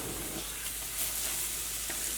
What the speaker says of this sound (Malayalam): ഒരു മീഡിയം ഫ്ലെയിമിലിട്ടിട്ട് റവ ഒന്ന് വറുത്തെടുക്കുക. നെയ്യിൽ കിടന്നിട്ട് ഒന്ന് നന്നായിട്ടൊന്ന് ചൂടായിട്ട് വന്നാൽ മതി.